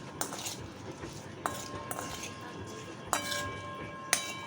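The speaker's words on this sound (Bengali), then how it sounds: "সমস্ত জিনিস একসাথে এইভাবে ভালো করে চামচ দিয়ে এইভাবে মেখে নেব" Lemon pickle with salt and spices being mixed with a metal spoon in a dish, giving sharp, ringing clinks every second or so against a soft, mushy background, quiet and close, no speech.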